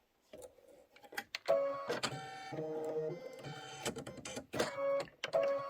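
A Kimberbell embroidery machine outline stitching, quick bursts of whirring motor and stepping needle with brief pauses and rising beeping tones between them, close and clear with no voices.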